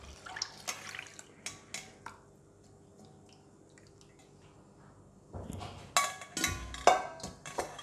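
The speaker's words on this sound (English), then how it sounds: "Pour the coconut milk into the bowl with the strainer." Fresh homemade coconut milk poured through a strainer into a bowl: scattered drips and small splashes at the start, a quiet stretch, then a denser burst of trickling and splattering liquid near the end.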